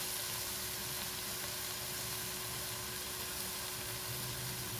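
Keema and masala frying in a pan give a continuous, dense sizzle that stays steady and fairly quiet throughout, with no voices over it.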